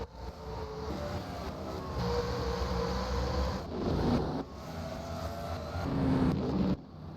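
Race truck engines roaring around the Canadian Tire track during an MG Truck Series race, a continuous mechanical drone with surges and fades as trucks pass, heard at a moderate distance.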